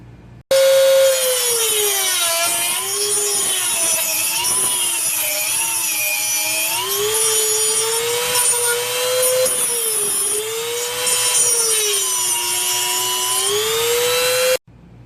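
A motor shaft collar is shaved down on its unthreaded part by a high-pitched rotary tool, loud and continuous, with a whining pitch that rises and dips as the cut loads and eases. It runs for about fourteen seconds and then stops abruptly.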